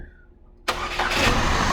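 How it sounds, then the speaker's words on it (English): A car engine cranking and catching during compression and vacuum testing: quiet hum, then a sudden start into a steady, loud idle that rises slightly, close up. "So we're going to go ahead and start the engine."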